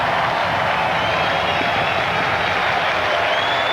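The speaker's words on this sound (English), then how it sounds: "Fans on their feet. At one moment cheering Martinez in anticipation of the final out." A baseball crowd at Fenway Park cheers Pedro Martinez in a Red Sox game against Cleveland, a dense, continuous roar of applause and voices from a large stadium audience.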